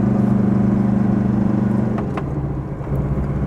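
A car with a 1.9-litre engine drives along, a steady low droning hum with a constant engine tone and road rumble throughout, fairly loud and close, with brief faint clicks near the end and no talk.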